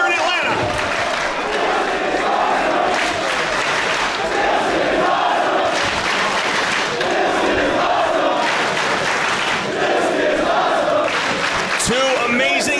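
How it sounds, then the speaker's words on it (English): A large wrestling crowd at a Dragon Gate USA title match in Atlanta roars and shouts in a sustained, loud eruption of cheering that swells and stays dense throughout. "Once again, this crowd erupts as they thought they were going to see a new champ here in Atlanta."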